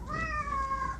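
A pet cat gives a single drawn-out meow, close and clear, lasting about a second with no talking over it.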